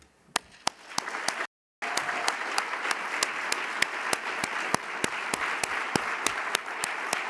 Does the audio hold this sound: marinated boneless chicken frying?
no